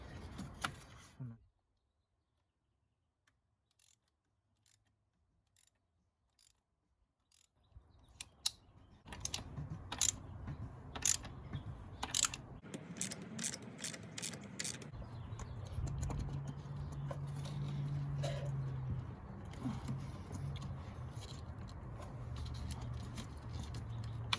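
Work on the oil filter of a Mercedes-Benz C230 during an oil change brings clicking tool taps and metallic rattles, with a quiet gap early on, then a run of sharp clicks and a steady mechanical scraping and rumble near the car.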